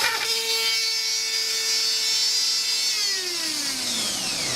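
Power sander working the edges of a wooden coaster, a steady close grinding whine with a sustained tone that holds level for about three seconds, then drops in pitch as the tool spins down, with no talking over it.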